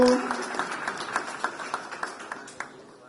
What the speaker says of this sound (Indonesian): Boleh kita beri tepuk tangan buat Kak Afu.